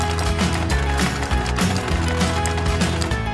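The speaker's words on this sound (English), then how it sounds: "Back to the machine. Stitch two of the pieces together like this." A sewing machine stitches together pieces cut from a pant leg, making a steady, loud mechanical whirring and clattering rhythm that runs continuously and close up, with no talking.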